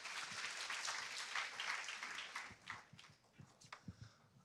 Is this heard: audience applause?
yes